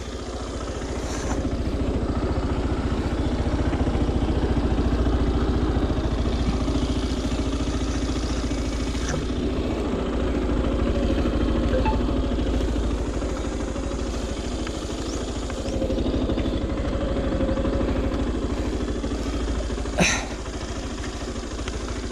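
A motorcycle engine runs continuously with a low, steady rumble and some clattering, mostly idling with occasional slight revs, close by and without speech.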